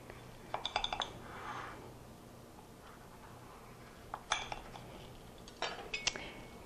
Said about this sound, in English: I'm going to take a knife and just cut a slice